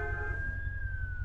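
A wailing ambulance siren in the video game Driver San Francisco, a single sustained tone that slowly bends, heard over a low rumbling engine drone.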